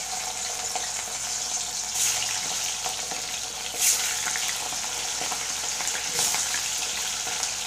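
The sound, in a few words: chicken frying in oil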